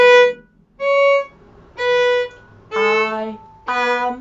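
The violin plays the warm-up tune I Am Glad in five separate bowed phrases, with clear pauses between them. The tone is clean and close, and the last two notes come with a lower accompanying pitch. No one speaks.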